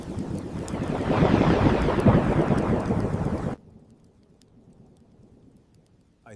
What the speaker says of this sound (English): As thunder rolled across the heavens and lightning illuminated the land